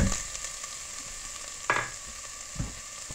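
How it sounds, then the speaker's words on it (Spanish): Chopped onion fries in hot oil in a pot, giving a steady, moderately loud sizzle broken by a couple of soft knocks from stirring; no voices. "Ya está caliente el aceite, le vamos a poner la cebolla picada."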